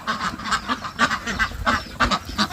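Several Yi-Liang ducks quacking and honking in quick bursts, a loud, close chorus of repeated calls with no one speaking.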